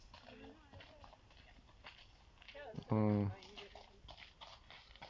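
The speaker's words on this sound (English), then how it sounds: "also a horse come passing by." A horse's hooves clip-clop as it passes by, a faint, steady patter beneath a person talking, with one loud vocal sound rising over it midway.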